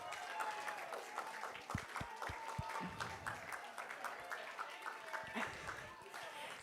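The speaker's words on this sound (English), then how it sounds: "Can you all give yourselves a wonderful round of applause?" Guests at a museum gala give a round of applause, scattered claps and cheers mixed with overlapping chatter and a faint tone in the room.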